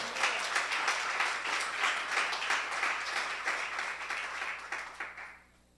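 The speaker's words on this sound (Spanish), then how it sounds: "¿Cuánto pueden darle un fuerte aplauso al Señor?" A church congregation bursts into applause during a pastor's sermon, dense clapping from many hands that stays strong for several seconds, then thins and fades out near the end.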